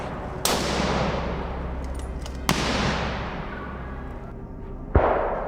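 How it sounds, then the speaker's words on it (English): A single loud rifle shot fired at a wild boar during a hunt cracks sharply and then rings out in a long decaying echo, followed by two more sharp reports, the last near the end. "The gunshot shattered the silence, and the boar I was targeting dropped instantly."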